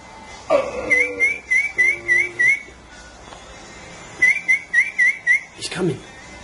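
A man whistles an imitation of a seagull call by the sea in Brighton, two runs of rapid warbling whistled notes with a short voiced yelp between, close and fairly loud.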